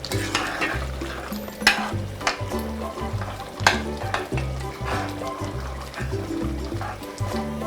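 Bloloba sauce mixture with added water cooking over the fire while being stirred, a steady sizzle and bubbling with repeated scraping strokes and occasional clinks, close and continuous.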